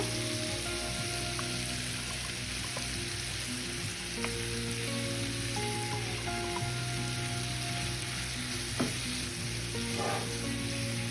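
Ground masala being stirred into a capsicum and potato gravy in a pan gives a steady close sizzle and bubbling, with scattered scraping taps from the spoon and a faint hum underneath, no voices.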